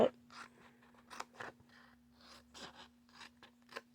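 Scissors snip through material while a tape dispenser caddy is made, a run of short crisp cuts in an irregular rhythm, close and fairly quiet over a steady low hum.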